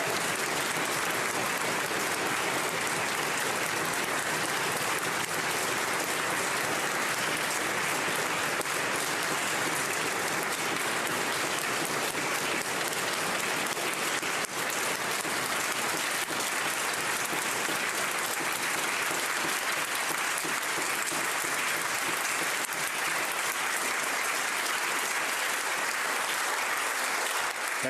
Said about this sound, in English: what you heard there was applause and a standing ovation that lasted 32 seconds